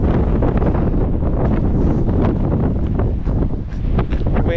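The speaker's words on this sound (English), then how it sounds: "Wind is getting pretty bad." Strong wind buffets the microphone outdoors during a long walk, a loud, continuous low roar and rumble with gusty fluctuations throughout.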